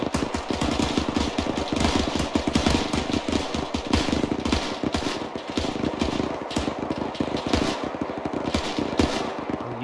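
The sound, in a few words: 30 cal machine gun firing in a video game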